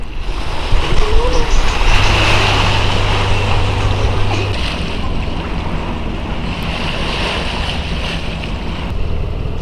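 A ferry's motor drones steadily over rushing water and gusty wind noise on a short estuary crossing near Isla Tenglo, Puerto Montt, Chile, loud and continuous throughout.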